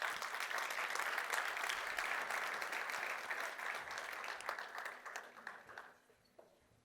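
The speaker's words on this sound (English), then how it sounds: "Let's give them a round of applause" Applause from a conference audience as presenters come on stage at a Google Cloud event, full and steady at first, then thinning and fading out near the end.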